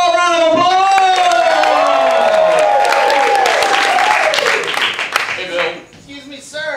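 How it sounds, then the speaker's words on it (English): A theater audience at a comedy stage show bursts into loud, dense applause and cheering with whoops as an act called Fresh Choice is introduced. Sustained tonal sounds run through the noise, and the crowd fades toward the end. "Give them a big warm round of applause!"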